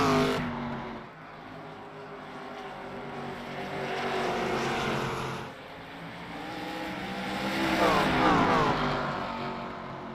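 Sim racing cars on the short oval of Hickory Motor Speedway in a video game, engines droning and swelling as the pack passes in waves, loud and close, with faint talk underneath.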